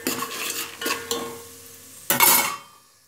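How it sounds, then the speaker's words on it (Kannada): Cumin and mustard seeds are stirred in a pan with a spoon, giving a few scraping strokes over a soft sizzle, then a sharper burst of crackling near the end; no one speaks. "ಸ್ವಲ್ಪ ಜೀರಿಗೆ, ಸಾಸಿವೆ ಹಾಕಿ ಚೆನ್ನಾಗಿ ಕಲಸಿಕೊಳ್ಳಿ."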